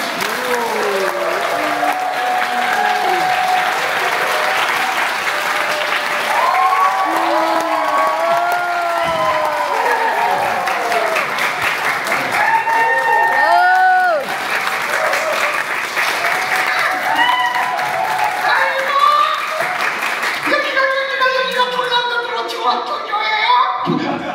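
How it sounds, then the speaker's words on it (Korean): A large church audience in Wrocław, Poland, claps loudly and steadily, with cheers and whoops rising through the crowd for the whole stretch. "여러분 박수로 맞이해주세요"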